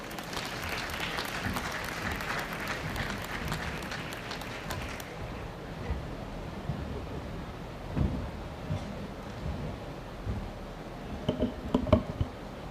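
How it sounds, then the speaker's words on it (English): An audience at a dairy princess contest applauds the candidates, a full round of clapping that fades after several seconds into room noise with scattered bumps and a few last claps. "let's give a round of applause to these candidates"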